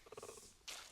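A cheetah purrs in the Planet Zoo video game, a short run of soft rhythmic rumbling pulses that ends in a brief breathy hiss.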